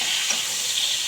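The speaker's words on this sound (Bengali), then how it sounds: "টমেটোটাকে একটু ফ্রাই করে নেব।" Chopped tomatoes frying in mustard oil in a pan give a steady, close, loud sizzle with a hissing texture, continuous and unbroken, with no voices.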